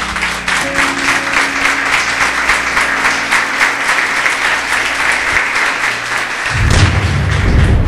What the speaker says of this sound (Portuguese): Palmas para o Senhor, bem forte.